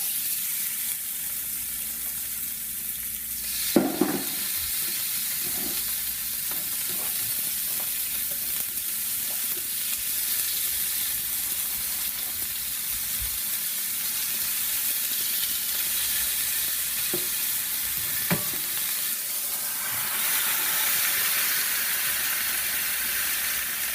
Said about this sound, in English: If you can hear it sizzle,